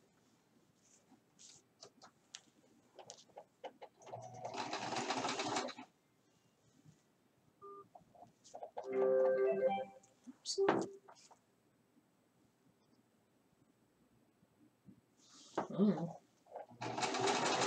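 Sewing machine stitching fabric for an owl pincushion, running in a few short bursts of a second or two each with quiet gaps between, close by, with a voice heard briefly.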